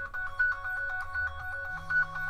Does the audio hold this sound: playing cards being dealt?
no